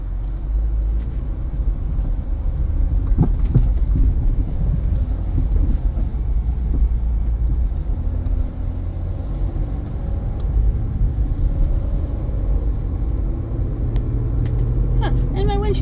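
A 2007 Kia Sportage drives along a road, giving a steady low engine and road rumble from inside the cabin while a person talks over it.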